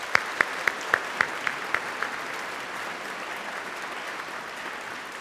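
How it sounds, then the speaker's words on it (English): A concert audience applauds orchestra musicians, a steady wash of many hands clapping at a fair distance, with a few sharper claps standing out near the start before the applause settles into a broad hiss. "let's give them all a round of applause"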